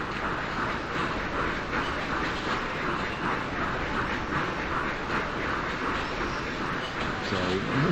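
A train runs along the rails in Railroad Tycoon II, an early American railway scene with wooden bridges, giving a steady, dense rumble with a faint rhythmic clatter that holds at an even level throughout.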